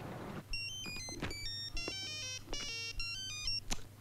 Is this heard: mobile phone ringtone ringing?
yes